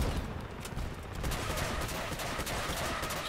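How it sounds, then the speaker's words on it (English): Missile swarm explosions from a video game: a dense, continuous roar of overlapping blasts and crackling detonations, steady and loud throughout with no pauses. "I just launched all my missiles over there."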